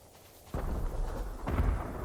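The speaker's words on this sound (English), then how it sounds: "More fireworks! On all sides!" Fireworks burst in Ghost of Tsushima with two loud, booming blasts about a second apart, each followed by a rumbling tail.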